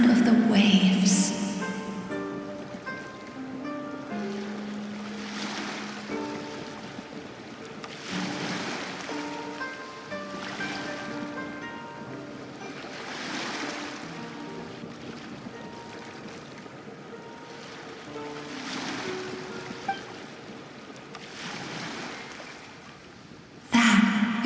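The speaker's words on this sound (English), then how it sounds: "Go to where you can hear the sound of the waves." Ocean waves wash in and recede in slow, regular swells in a Genshin Impact game world, soft and distant under a layer of wind and a gentle musical score, with no talk.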